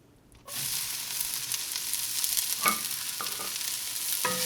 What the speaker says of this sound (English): You can hear these onions start cooking immediately.